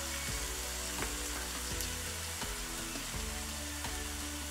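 Vegetables and tofu stir-fry in dark soy sauce with a dense, continuous sizzle, broken by repeated sharp scrapes and knocks of a utensil against the pan at a fairly regular pace; no one speaks.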